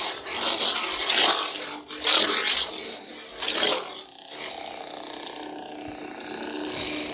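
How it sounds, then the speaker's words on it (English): A harsh, growling Sith lightsaber hum from a CFX neopixel saber surges loudly three times in a row, then settles into a lower, steady buzzing drone. "It's just a guttural, doom-bringing Sith. Terrifying sound."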